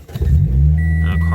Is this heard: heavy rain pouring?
no